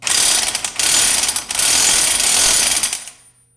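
An impact wrench tightens a 30 mm lug nut on the front axle of a Yamaha 660 Grizzly ATV, a loud close rapid hammering rattle in three bursts that winds down at the end.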